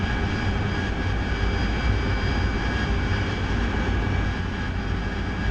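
Aircraft engine in a flight simulator game, a steady unbroken drone with a faint whine on top, even in loudness throughout and with no speech.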